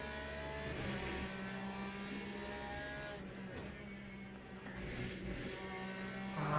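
Aston Martin GTE race car engine in the Le Mans Ultimate racing game, a steady buzzing drone that swells as it revs, heard fairly quietly with no talk.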